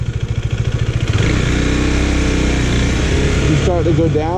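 A motorcycle engine idles with a throbbing pulse, then revs up into a sustained loud whine while the clutch is pulled, and a voice speaks near the end.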